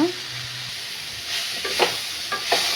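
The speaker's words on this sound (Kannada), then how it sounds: "ಫ್ರೈ ಮಾಡಿ ತೆಗೆದಿಟ್ಟಿದ್ದಂಥ ಹಾಗಲಕಾಯಿನ ಹಾಕ್ಕೊಂಡು ಮಿಕ್ಸ್ ಮಾಡ್ಕೊಳ್ಳೋಣ." Fried bitter gourd being stirred into a hot pan for a Kannada palya, with a steady hiss of frying under a few scraping spatula strokes, close up with no voice.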